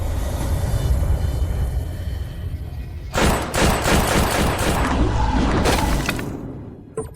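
Rapid volley of gunfire aimed at a ghost in a dramatic scene: after a low rumbling ambience, a dense, loud burst of shots crackles for about three seconds and then fades out.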